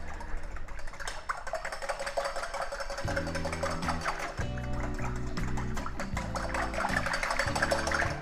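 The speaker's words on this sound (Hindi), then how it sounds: "इसको अच्छे से करेंगे बीट।" A cup of yogurt beaten for mutton kaleji with a steady rapid whisking clatter that runs the whole time, close and busy, while a low droning tone sits underneath from midway on.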